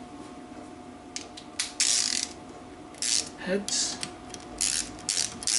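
A ratchet with a half-inch AF socket clicks in short bursts while bolts on a BSA B25 Starfire engine are nipped up; rapid close pawl clicking comes in several spurts with pauses, and a brief spoken word is heard.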